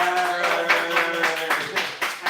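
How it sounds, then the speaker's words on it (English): Applause during an online folk concert: a few hands clap in a fairly regular rhythm, close and clear, over a lingering sustained tone. "can we give a big round of applause, please, for Kira and Katrina?"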